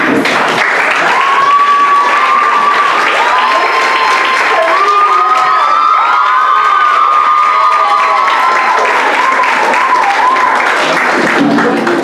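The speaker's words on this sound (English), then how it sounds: "Students, please stand and applaud your teachers." Loud, sustained applause and cheering from a crowd of high school students at a schools debate competition, with shouts and whoops rising over continuous clapping that fills the whole stretch.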